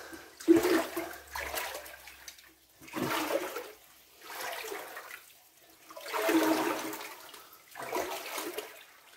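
Water sloshing and surging in slow, heavy waves as someone wades steadily through deep water in a flooded mine tunnel in the Upper Harz, rising and falling every couple of seconds, with echoey surroundings.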